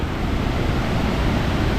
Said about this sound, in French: C'est vrai que là on se retrouve avec des cascades très larges, donc c'est quand même assez impressionnant.